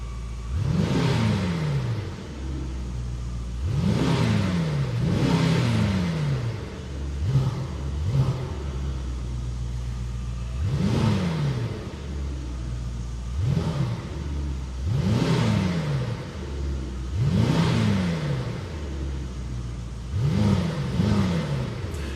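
A 2024 Brabus GT930 V8 revving through a sound-controlled exhaust, loud repeated blips where the engine climbs and falls in pitch, roughly ten revs spread across the stretch, heard up close without talk.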